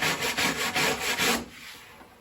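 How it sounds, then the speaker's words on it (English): A wire brush scrubs back and forth over a crack in wood in about six quick, rhythmic rasping strokes, close up, then stops and leaves quiet. "the thing I like to use when it's a crack like that is just a wire brush"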